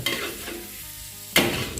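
Pork skin fries in its own rendered fat in a pan while being stirred, a soft continuous sizzle broken by scraping stir strokes, with a sharper burst near the end.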